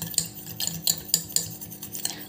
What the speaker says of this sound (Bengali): এর ভিতর আমি দিয়ে দেবো এবার এই যে 1 চামচ কাঁচা দুধ। তা এটাকে ভালো করে আমি মিশিয়ে নেব।